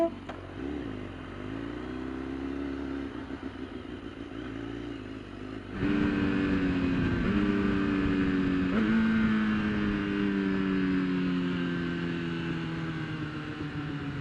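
A 2015 BMW S1000RR superbike on a race track, engine droning steadily, then rising sharply in revs with upshifts and long falling notes as it decelerates under engine braking, loud and close throughout.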